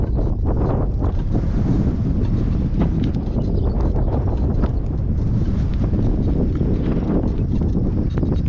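Strong blustery wind storm roars steadily and loudly across the microphone, with continuous buffeting gusts and no break throughout.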